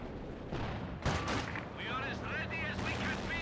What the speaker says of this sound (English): Going for a regular Soviet mortar here as well.